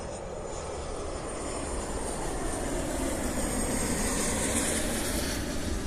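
A plane passes close overhead on final approach to runway 26 right in Hawaii, a steady loud broadband roar with rising high whine that holds throughout, no voices.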